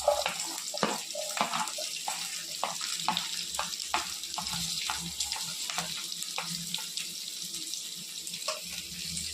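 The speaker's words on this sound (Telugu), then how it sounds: "బాగా ఫ్రై చేయాలండి." Onions sizzle in hot oil with curry leaves and green chillies for a fish fry dish, a steady bright hiss broken by frequent sharp crackles and pops, close and continuous with no talking.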